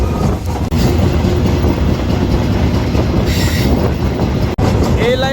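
The Nilsagar Express thunders across the new Jamuna rail bridge with a loud, continuous roar of wheels and carriages, rhythmic rattling, and a brief metallic squeal near the end.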